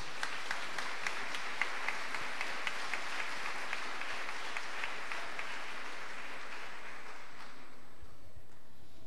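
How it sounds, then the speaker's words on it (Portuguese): A church congregation applauds after the reading of the word of God, a broad, sustained wash of clapping from many hands that fades out near the end. "Vamos aplaudir a palavra de Deus."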